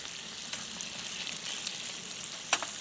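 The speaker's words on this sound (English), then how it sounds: "Put that in your skillet and fry it up." Food fries in a skillet at a truck campsite by a lake with a soft, steady hiss and crackle, a faint clink near the end, and no talking.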